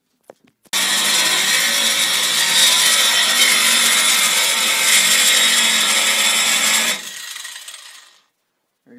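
A power saw cuts through thick stock for a knife blade in a workshop, a loud steady whining cut lasting about six seconds before it spins down and stops.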